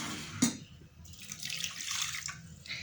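Water from a glass poured over lemon peels from two lemons in a pot, a close splashing, trickling pour with a sharp knock at the start, steady for a few seconds without talk.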